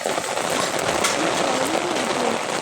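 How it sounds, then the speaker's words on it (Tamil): A steady downpour of heavy rain hisses continuously, with a faint low murmur beneath it and no speech. "நல்ல மழை."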